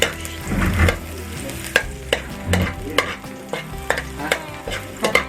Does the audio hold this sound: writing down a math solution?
no